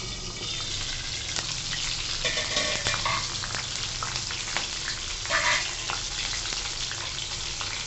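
Red chili sizzles in hot oil in a pan while a cabbage sabzi is started. The frying hiss is loud and continuous, close up, with scattered crackles and pops.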